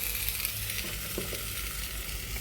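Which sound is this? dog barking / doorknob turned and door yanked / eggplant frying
eggplant frying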